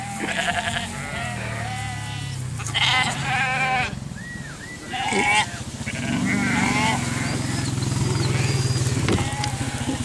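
Sheep bleat repeatedly, near and far, as sheepdogs herd them across open hill country, with steady wind or low rumble underneath and some voices now and then.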